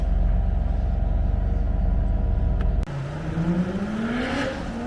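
A drift car engine rumbles at low idle, then cuts out and revs up again, its pitch rising as it accelerates nearby.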